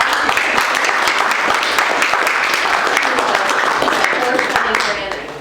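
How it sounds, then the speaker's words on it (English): Audience applause for a woman invited up to speak at an evening gathering, a dense, steady roar of many clapping hands filling the whole stretch before tapering off at the end. "Everybody give Ida a big round of applause."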